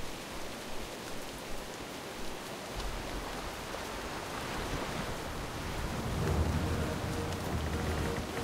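Stormy rain and crashing ocean waves in World of Warcraft's Exile's Reach, a steady broadband wash that swells louder toward the end, with no talking.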